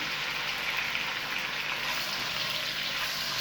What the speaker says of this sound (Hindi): अब मैं इसमें ऐड करूँगी चिकन 300 ग्राम्स। ये बोनलेस चिकन है,